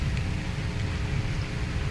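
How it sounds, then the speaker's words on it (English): Rain sound effect from the train simulator game TANE: a steady, even hiss of rainfall, dense and uniform with a low rumble beneath, playing alone for a couple of seconds. "Real rain sounds way different than this."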